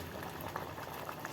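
Chana masala bubbles in a clay pot, a close steady boiling with soft popping bubbles, heard alone.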